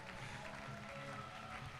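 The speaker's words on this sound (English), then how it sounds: "Ladies and gentlemen, this needs a massive round of applause." Applause for a 12-year-old swimmer at a swimming championship, a steady, faint patter of clapping from a crowd.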